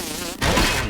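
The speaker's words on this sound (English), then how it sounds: "It sounds like a mosquito." A mosquito buzzes in the survival game Grounded, a steady high whine that drops out briefly and then returns louder and closer.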